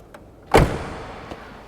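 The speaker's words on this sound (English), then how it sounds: "Doors shut nice." A car door on an original Chevrolet Corvette C3 thumps shut once in a single solid slam, followed by a brief faint click a moment later, with no talking.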